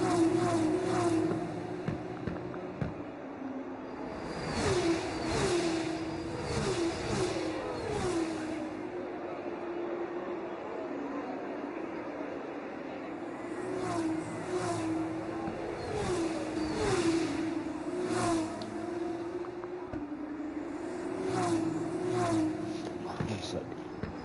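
Engines of F2 race cars on a formation lap in a racing video game at Mexico hum and rev at a low level, swelling in a few passes, while a commentator talks over them.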